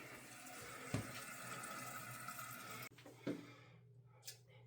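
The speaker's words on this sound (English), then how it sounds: "Toilet's filling up." Water rushes steadily into a toilet tank refilling after a flush, a continuous hiss with a couple of brief knocks, then the flow cuts off abruptly and only faint trickles and small clunks remain.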